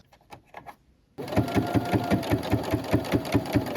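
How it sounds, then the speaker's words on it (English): A sewing machine straight-stitches narrow binding on a newborn baby onesie, starting after a second of soft handling noises and then running in a fast, even, close-up mechanical chatter to the end. "I'm actually using a straight stitch because the binding is so narrow that the zigzag is just scuffing it up."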